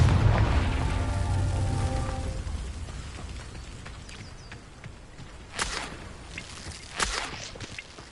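Confringo fire blasts in Hogwarts Legacy: a heavy booming explosion opens and rumbles away into a fading tail, followed by two sharper, smaller bursts further on.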